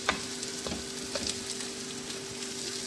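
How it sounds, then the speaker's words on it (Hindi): Okra frying in a pan for a bhindi masala dish while onions sauté nearby, giving a steady soft sizzle with a few faint clicks and scrapes. "और वहाँ पे हमारी भिंडी जो है वो फ्राई हो रही है।"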